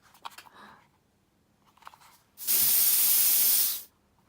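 A household spray bottle lets out one long, loud hissing burst of mist after a few quieter handling clicks.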